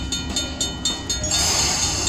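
Train sound effect from a Cash Express slot machine game, a busy rumbling clatter with rhythmic clicking pulses, rising into a bright hissing whistle-like tone in the latter part, loud and without talk.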